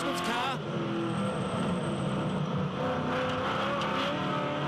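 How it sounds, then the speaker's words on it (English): A V8 ute racing car engine, heard onboard at the Adelaide street circuit, screams loudly as the throttle is eased off and reapplied, the pitch dipping and rising in quick cycles, with commentary underneath. "You can hear the balance on the throttle, the up and down."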